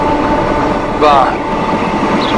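Steady rumbling train movement from the Transport Fever 2 simulation game, a continuous rail drone with a brief squealing screech near the middle, with someone speaking Italian over it.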